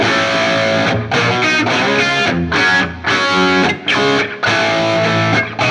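A loud, dense music mix washed in reverb for a big-room feel, with punchy chopped phrases and short gaps that let the reverb tails ring out.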